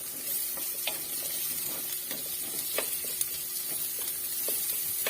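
Garlic and onion sauté in a hot pan, a dense hissing sizzle broken by repeated scraping clicks of a utensil stirring, close up with no talking.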